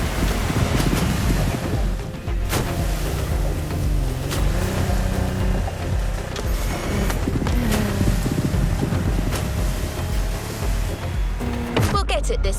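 Lamborghini Technomar powerboat racing across ocean waves in The Crew Motorfest, a steady loud roar of engine and surf with wind rush throughout, a brief change near the end.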